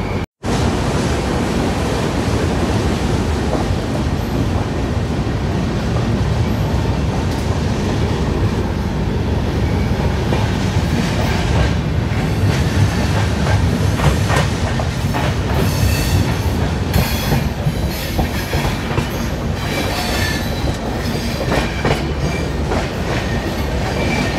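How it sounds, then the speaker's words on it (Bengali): An express train pulls out of Cuttack Junction from platform 1, a loud, continuous rumble of wheels and carriages with rhythmic rail clatter and strong wind noise throughout. "আমাদের ট্রেন এখন কটক জংশন থেকে ছেড়ে বেরোচ্ছে 1 নম্বর প্ল্যাটফর্ম থেকে"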